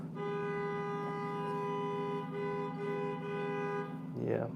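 Car and bus horns honk outside near a school during afternoon pickup, one long sustained blare held for several seconds before a brief burst of other noise at the end.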